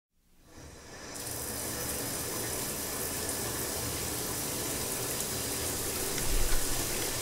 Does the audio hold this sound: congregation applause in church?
no